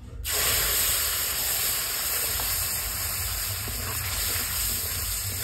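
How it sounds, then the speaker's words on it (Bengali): Spinach paste added to a hot pan for palak paneer gives a loud, steady hiss of frying and steam, starting abruptly and continuing evenly throughout with no talking. "নিয়ে এর সঙ্গে মিক্সিতে পেস্ট করে নিয়েছি পালং শাকটা, এটাও আমি দিয়ে দেব।"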